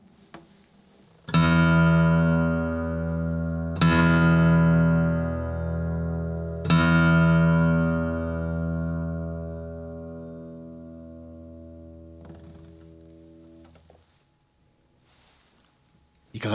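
Three deep low notes on a 1993 Martin D-45 Deluxe Limited Edition acoustic guitar with Brazilian rosewood, rung out one after another, each left to sustain and fade slowly, ending in near silence.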